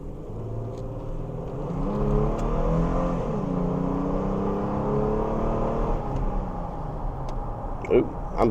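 A pickup truck out on the road on a test drive, its engine rising steadily in pitch as it speeds up, with a continuous droning rumble and a brief knock near the end.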